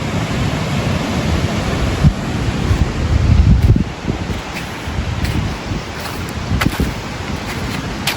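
Waves wash in at a lagoon at a beach resort in Pangasinan, a continuous surf rush mixed with heavy wind buffeting against the microphone.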